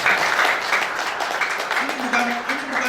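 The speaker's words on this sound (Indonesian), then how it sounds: "Tepuk tangan yang terbaik buat Tuhan." A church congregation claps together in a sustained, dense round of applause that fills the whole stretch at an even level, with a faint tonal voice or instrument line rising briefly near the end.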